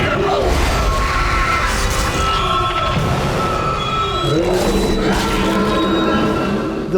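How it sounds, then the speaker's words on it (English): Man screaming for his life in terror within the Dead Space horror game, a loud, continuous strained yelling spread over about seven seconds, backed by dense, noisy game ambience. "just hearing this man scream for his life just fills you with dread"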